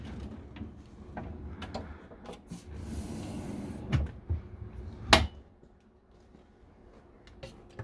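Wooden drawers in a Mercedes motorhome slide and knock shut several times nearby, with scattered clunks and one sharp bang partway through, then quieter handling sounds.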